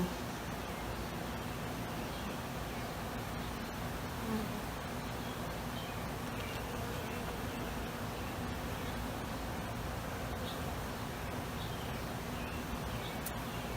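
Agitated honeybees swarming over burr comb, a dense, continuous buzzing drone close to the microphone, steady and unbroken with no talking.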